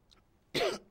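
A man on a televised Brazilian election debate program lets out a single sharp cough, close and loud, after a faint muffled throat sound, then a second burst begins just as it cuts off.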